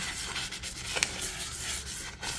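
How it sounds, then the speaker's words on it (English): A tumbler surface is sanded and scuffed by hand, giving a steady, close rasping rub with brief strokes throughout and no talk. "And I'm just going to sand all around here, scuff all this up."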